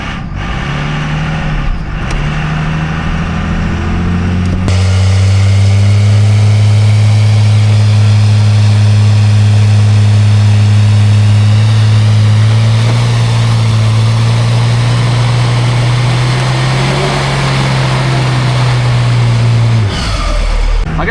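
A Cummins diesel swapped into a Volkswagen bus idles, then drives for about fifteen seconds, a loud, close, steady low drone that rises slightly before easing back to idle.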